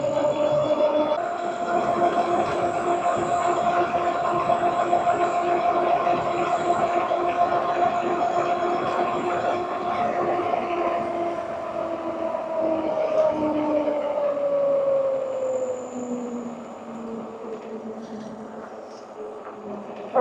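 A WALLKE H7 AWD electric bike accelerating on throttle, a whining motor tone that holds steady then drops in pitch, over continuous rolling and wind noise, close and moderately loud with no speech.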